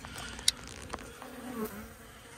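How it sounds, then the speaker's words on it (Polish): Honeybees buzz around wooden hives in a midwinter cleansing flight, a steady close hum with a few sharp ticks and faint knocks, no talk. "No tutaj atak, atak pszczół jest."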